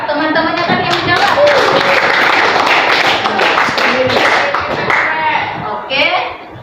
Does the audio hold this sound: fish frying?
no